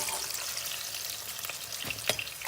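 Eggplant slices frying in hot oil in a pot give a steady, close sizzle with bright crackling pops, one sharper spatter near the end.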